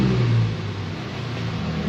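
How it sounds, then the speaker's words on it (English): A truck engine hums and revs low as it pulls up, steady and fairly close, with a brief rise at the start before settling into an even idle-like drone. "Well, I hear him pulling up right now."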